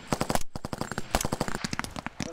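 Rapid bursts of gunfire on a military shooting range during paratrooper training, sharp repeated cracks fired in quick succession, close and loud, with shouted voices in between.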